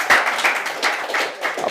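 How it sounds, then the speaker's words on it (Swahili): Student audience at a live Kisii FM radio broadcast from Nyakemicha High School breaks into applause, a dense wash of clapping that swells and pulses through the short stretch. "Mpatie makofi vingine tena."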